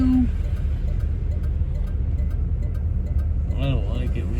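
A car rolls along slowly with a steady low road and engine rumble inside the cabin, while people chat over it near the end.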